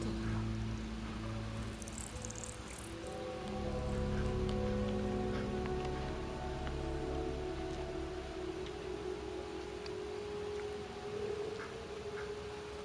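Steady rain from the video game Death Stranding patters across the whole stretch at a moderate level, a dense wash of drops running beneath a low musical hum with no voices.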